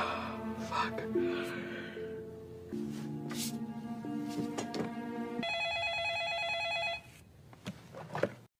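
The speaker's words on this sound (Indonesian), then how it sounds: "Tiba-tiba telepon berdering, namun saat Gwen mengangkatnya tak ada jawab" A telephone rings with a bright, trilling electronic tone, clear and close, following a few seconds of dramatic background music.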